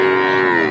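A young heifer, about twelve months old, at the Dhaper Hat cattle market in Bogura gives a single loud, close, drawn-out moo with a steady tone that tails off slightly at the end.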